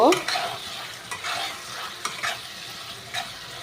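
Water goes into a pan of frying masala for a pabda fish curry, a sharp hiss at the start that settles into a low steady sizzle with a few faint stirring scrapes.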